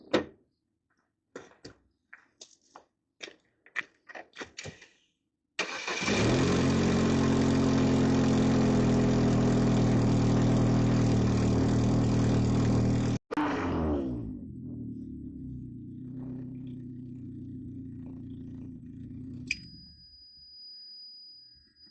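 An Opel Astra G engine cranks after a few clicks, roars loud for several seconds, then drops to a steady, lower idle, with a brief clunk near the end.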